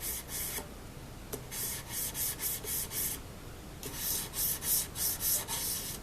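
Rhythmic rubbing strokes of 2000-grit sandpaper across the finish of an old Kraftsman mandolin being restored, steady back-and-forth hissing passes heard close up and alone.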